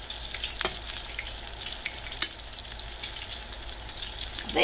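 Apple fritters frying in hot oil for an old-fashioned 1927 recipe, a low steady sizzle with a couple of brief pops, heard on its own without talk.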